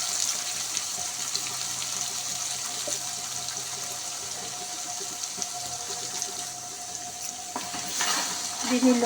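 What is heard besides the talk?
ground masala paste frying in a pan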